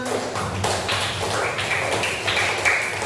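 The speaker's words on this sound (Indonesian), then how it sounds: "Silakan duduk, kasih tepuk tangan." A class of students claps together in a classroom during an Indonesian teacher-training lesson: a steady, dense patter of many hands at close range, lasting the whole stretch with no voices over it.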